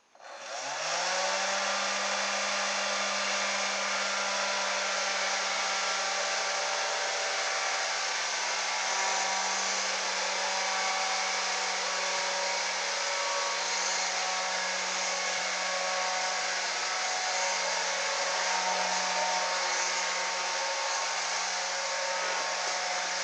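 A ducted fan fitted to an RC toy car spins up quickly and then holds a steady, loud, high whine with a strong hum, running continuously for a long stretch with no other sounds.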